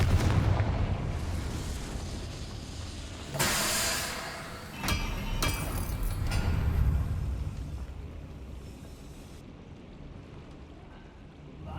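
Confringo fire blast spell in Hogwarts Legacy, two sharp explosive bursts a couple of seconds apart over a rumbling game soundscape, with lingering crackle and whoosh afterward, no talk.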